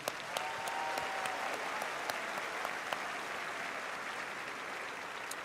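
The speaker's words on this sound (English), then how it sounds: "join me in a round of applause for the faculty and staff of Woodmont" A crowd at the Woodmont High 2024 graduation ceremony applauds the faculty and staff, with steady, sustained clapping in a large space and a few sharper individual claps standing out through the continuous wash.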